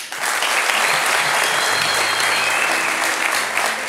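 Audience applause at a talent show, dense steady clapping filling the room from start to finish at an even level, with faint background tones and no talk over it.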